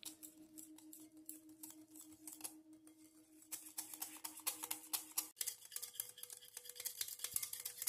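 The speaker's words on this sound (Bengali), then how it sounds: "এবার চিনিকে দইয়ের সাথে খুব ভালো করে মিশিয়ে নিতে হবে।" Powdered sugar stirred into whisked yogurt in a bowl, a quiet run of quick clinking and scraping strokes from a utensil against the bowl, steady and close, with no voices.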